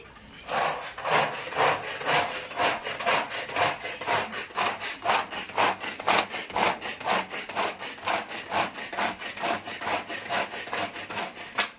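Rapid, repeated rasping chops of an onion cutter, a steady rhythmic crunching and scraping that continues without pause, close up and fairly loud.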